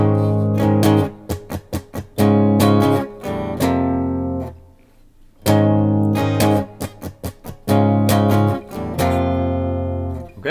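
Electric guitar playing a measure of a song: loud, close, choppy strummed chords with muted scratch strokes and a brief sustained pause in the middle.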